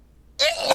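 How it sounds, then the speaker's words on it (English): One abrupt human sneeze bursts out loud and close after a moment of near silence, a sharp breathy blast that trails off quickly. "I had to sneeze"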